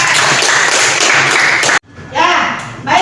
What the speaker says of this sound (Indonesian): Oke, tepuk tangan dulu jawabannya.